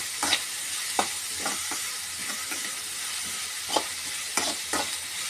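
Salted dry fish frying in a pan, with a continuous close sizzle and hiss and several sharp scraping stirs spaced unevenly, no voices present.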